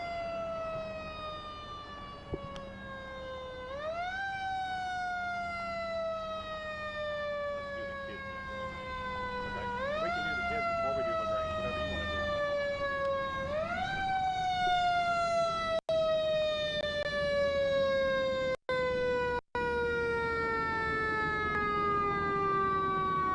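Fire engine sirens wail as the trucks roll in to a firefighter event in Ballardsville, rising and falling in repeated sweeping cycles, loud and close over a rumble of traffic and crowd noise, with a couple of sharp cutouts near the end.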